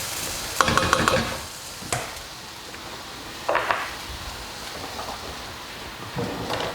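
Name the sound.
chickpea spinach curry ingredients browning in pan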